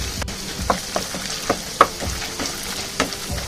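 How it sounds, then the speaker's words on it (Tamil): Garlic and tamarind sizzling and frying in a hot pan for garlic chutney, with a steady crackle and occasional sharp pops and stirring scrapes, no voices. "அதுவும் போட்டு நல்லா வதக்கலாம்."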